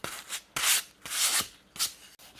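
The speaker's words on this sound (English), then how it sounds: "we'll give him a bit of a sand" Hand sanding on a wooden guitar build, four distinct rasping strokes in an uneven rhythm, close and fairly loud with brief pauses between, no talk.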